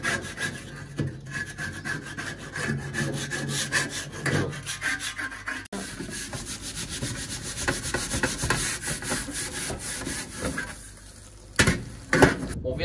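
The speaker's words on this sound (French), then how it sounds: "je vais prendre cette petite spatule et nettoyer mes barres et gratter tout le plus gros" A small spatula scrapes grease off the Flavorizer bars of a Weber gas barbecue, close, dry rasping strokes repeating in a quick irregular rhythm with occasional metallic knocks, no voices.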